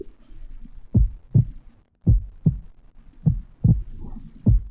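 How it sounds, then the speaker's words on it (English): A video game heartbeat sound effect: slow, muffled thumps in paired lub-dub beats, deep and soft, repeating steadily with no other sounds. "adding the following heartbeat sounds whenever the torch gets low enough"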